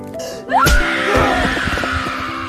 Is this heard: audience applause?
no